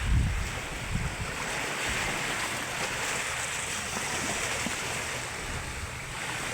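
Loud sea surf on a cold, windy Palawan shore rushes and breaks in a constant wash, with wind buffeting the microphone and no voices.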